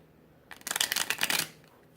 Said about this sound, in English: I'm going to stop this video after I shuffle these cards.